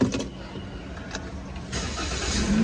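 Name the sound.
Toyota Veloz 1.5 car engine starting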